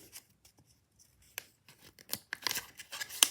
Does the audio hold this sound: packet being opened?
yes